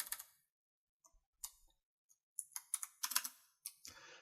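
Computer keyboard keys are pressed in short, irregular bursts of crisp clicks, sparse at first and then quicker clustered taps, close and fairly quiet.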